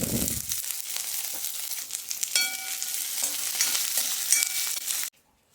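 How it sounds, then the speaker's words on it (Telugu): Green chillies and onions frying in hot oil for dal, with curry leaves added, crackling in a loud continuous sizzle with occasional scraping stirs, cutting off abruptly near the end. "పచ్చిమిర్చి ఉల్లిగడ్డ కాస్త వేగినాయి"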